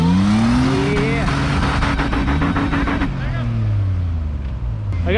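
Toyota engine revving as the vehicle pulls through snow, a loud, close rising and falling drone with shifting pitch, with people talking over it.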